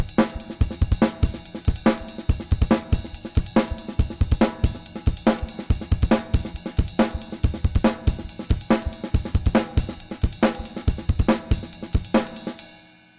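Fast, driving drum groove: ride-cymbal bell accents locked with the kick drum and snare hits, played up to speed in a dense, continuous pattern that cuts off abruptly at the end.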